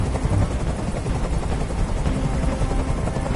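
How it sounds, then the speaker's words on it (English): Helicopter rotor noise in a PS4 video game, a loud, steady thrumming drone that fills the whole clip with no talk over it. "Tell that helicopter to get out of here!"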